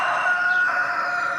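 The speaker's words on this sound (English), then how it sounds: "I've got some loud roosters." A loud rooster crows nearby in a single sustained call that fills the moment, with no talking over it.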